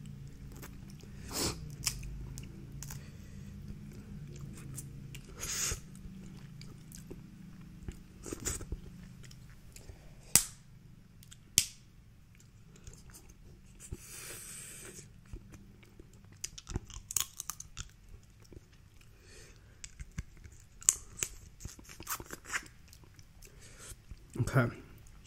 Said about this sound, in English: I want to get this leg cracked and pulled out properly.